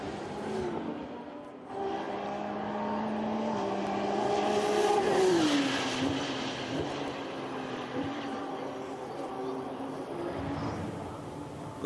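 Aston Martin GT race car heard on board during a lap of the Nürburgring 24 Hours, its engine droning loud and steady, pitch rising and then dropping sharply before settling into a sustained high note.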